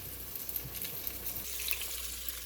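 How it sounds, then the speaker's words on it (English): Meat sautéing in a hot pan, a steady close sizzle and crackle with scattered pops, quieter in the second half as the hiss thins out. "I've still got this sauteing"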